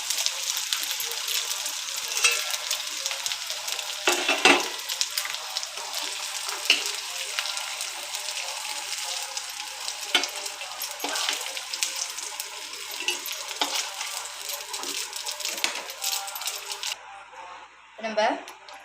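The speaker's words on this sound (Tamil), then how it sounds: "கருவாடு நல்லா பொரிஞ்சிருச்சு" Dried fish frying in oil, a dense, continuous crackling sizzle heard close and steady for a long stretch, with occasional utensil clinks and a short break near the end.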